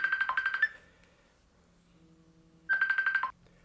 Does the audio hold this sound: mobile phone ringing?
yes